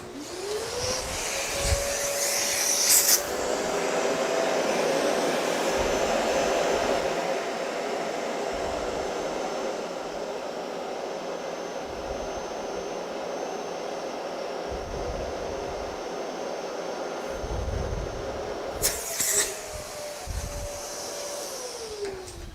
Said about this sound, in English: we're going to turn on the vacuum, get most of the air out